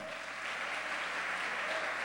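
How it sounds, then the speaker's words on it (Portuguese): A church congregation at a Baptist Sunday evening service applauds together, a steady, dense wash of clapping that holds evenly for a couple of seconds with no voice over it. "Aplauda o Senhor."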